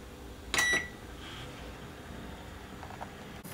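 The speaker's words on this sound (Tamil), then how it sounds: "இப்போ மைக்ரோவேவ்லையும் வச்சிடலாம்." A microwave oven set to bake mode gives a short electronic beep near the start, followed by a faint steady hum and a few soft mechanical clicks. No one speaks.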